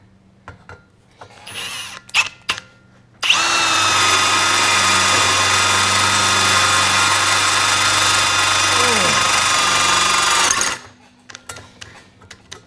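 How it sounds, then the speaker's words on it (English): A power drill with a carbide bit bores through metal in one continuous high whining run of about seven seconds, loud and close, framed by quieter handling clicks and shuffling before and after. "we'll actually just need to drill through it with this carbide bit here"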